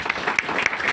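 Audience applause at a gathering, a steady wash of many hands clapping throughout, with a few sharper individual claps standing out.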